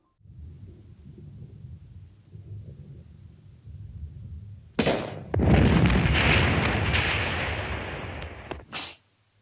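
An explosion in the French horror film Devil Story: a low rumbling bed breaks into a sharp blast and a long, loud roaring burst that fades after a few seconds, with a final crack near the end.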